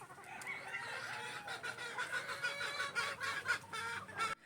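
Gamefowl chickens and roosters in the range area of a game farm, a dense, lively chorus of clucking and cackling from many birds at once, steady and fairly loud throughout.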